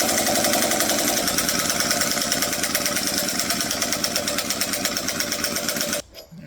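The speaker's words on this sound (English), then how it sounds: "that's what a dying air gun sounds like" An air impact gun runs weakly on low air pressure while working on an AMC 258 engine's harmonic balancer, producing a fast, steady rattling hammer for about six seconds before cutting off abruptly.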